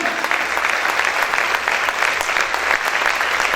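Sustained loud clapping from a church congregation praising during worship, many hands blending into an even, continuous roar.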